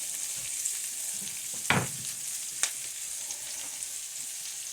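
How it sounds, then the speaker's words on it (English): Sliced peppers and diced onion sauteing in a pan for pepper steak, a constant close sizzle with two sharp stirring clatters and soft scraping, no speech. "we're going to saute these until they're tender"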